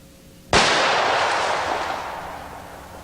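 A single loud, close gunshot from a .460 Rowland handgun fired at a target, a sharp crack followed by a long decaying echo.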